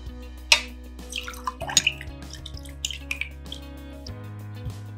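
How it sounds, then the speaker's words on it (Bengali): Homemade pineapple juice is strained, giving scattered close drips and small liquid trickles over a steady low background hum, with no talking. "এবারে আমি আনারসটা ছেঁকে নেব"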